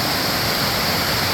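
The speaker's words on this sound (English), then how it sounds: "Listen to the sound of the waterfall." The waterfall at Daniels in Patapsco State Park roars as a dense, steady, unbroken rush of water, loud and close with no other sounds.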